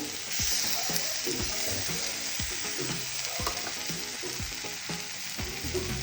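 Spices fry in oil with ginger garlic paste, green chilies and ground cumin, crackling in a constant close sizzle broken by repeated scraping knocks of a spoon stirring the pan.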